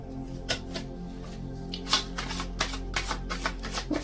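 Chakra wisdom oracle cards are handled and shuffled up close, making soft repeated riffling and slapping flutters in uneven bursts with no talking.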